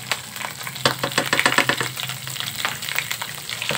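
Ginger garlic paste and cumin are stirred in a hot frying pan while cooking chicken. A close, steady sizzle is broken by quick scraping strokes of stirring.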